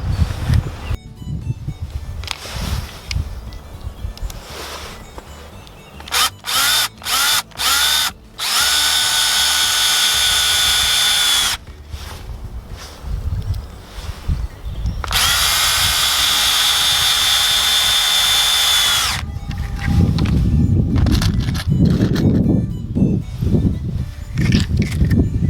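Power drill driving screws into raised bed timber at an allotment garden, several short whirring bursts followed by two long sustained runs, loud and close, with outdoor rustling between them.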